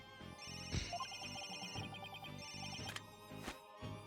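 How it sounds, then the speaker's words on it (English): A cell phone ringing in the Phoenix Wright: Ace Attorney – Dual Destinies game, a chirpy electronic ringtone with repeating melodic tones over a soft game background, without voices. "Where's that ringing coming from?"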